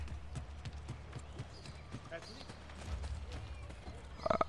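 Horse hooves clip-clopping in Assassin's Creed Brotherhood, a quiet, irregular patter of hoof hits running under game ambience while someone talks over it.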